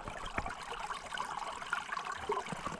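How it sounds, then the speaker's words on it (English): Water in a winter brook trout stream trickles and burbles steadily at close range, a continuous low-level rush with small splashy accents and no voices. "the water flowing"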